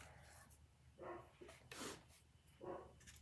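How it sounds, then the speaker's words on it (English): Indoor dogs bark in three or four separate bursts, fairly faint and muffled as if from another room, over a low background hum. "So if you hear them barking,"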